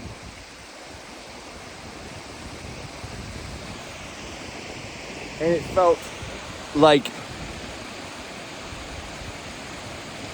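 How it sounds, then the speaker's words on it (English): Crashing waterfall in Iceland, a loud continuous rushing roar of water filling the whole stretch, with a person speaking briefly over it partway through. "the crashing sound of the waterfall"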